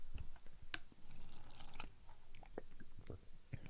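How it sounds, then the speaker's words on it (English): Water sipped through a straw-like piece from a plastic bottle, with faint, close wet sucks, drips and swallowing squishes scattered irregularly over a quiet room hiss. "And that noise was just me drinking some water"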